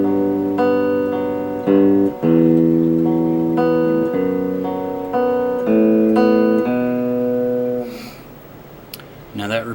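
A guitar plays the riff from a song, a repeating pattern of strummed chords with short gaps, close and fairly loud, trailing off into brief handling noise at the end.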